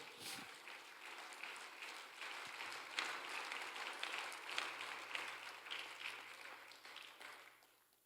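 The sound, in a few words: congregation applause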